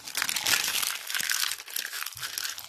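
A foil packet of collectible football cards is torn open up close, with continuous crisp crinkling and ripping that swells and dips in short surges.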